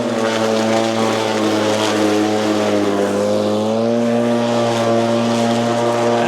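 Litheli Easy Surge 40V battery lawn mower cutting grass on power level 4, a loud, steady, close motor whine with strong tonal hum and no pauses.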